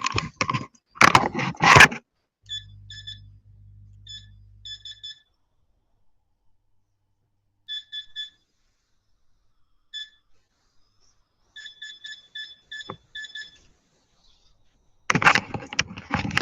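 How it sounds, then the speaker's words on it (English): Faint high electronic beeps in short clusters repeat at irregular intervals through near silence, with bursts of noise at the start and end. "I still do hear the beep."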